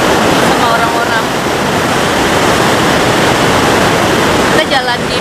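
A river rushes at Tiger Leaping Rock in Shangri-La, Yunnan, with a loud, steady roar of churning water that fills every moment, and faint voices can be heard near the end.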